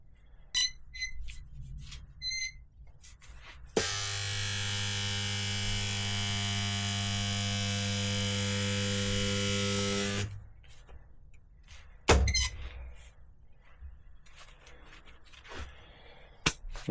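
Spot welder making three spot welds in a row on metal, heard as a steady loud electrical buzz lasting several seconds, framed by small clicks and clanks before and after, with no voices.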